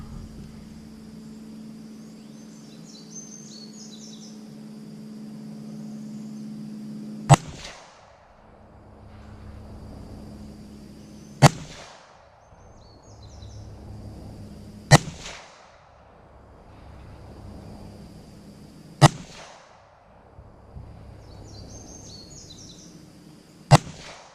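A Radical Firearms rifle in 224 Valkyrie fires five sharp, loud shots outdoors, spaced several seconds apart, each a sudden crack with a short decay over a quiet background hum.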